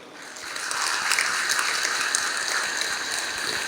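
Audience clapping at a Hindu religious discourse, swelling quickly into a sustained patter of many hands that holds steady for a few seconds.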